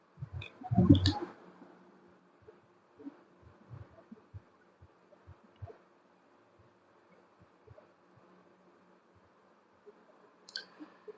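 A spanner tightens a spring fitting on a PX100 airgun with a louder metallic clatter at the start, then a series of soft, evenly spaced low clicks and taps from the tool under a faint hum, and a small clink near the end.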